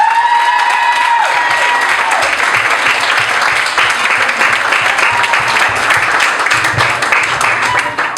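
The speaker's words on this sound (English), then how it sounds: "So let's have a round of applause for Benita." Sustained audience applause at an awards dinner honoring thirty years of service, dense steady clapping from a crowd throughout, with a brief tonal whistle-like sound near the start.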